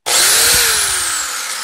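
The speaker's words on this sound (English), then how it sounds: "sanding disc" A sanding disc on a power tool spins up during restoration work on a Thunderbird Turbo Coupe headliner, a loud close whirring hiss with a falling motor tone, heard alone.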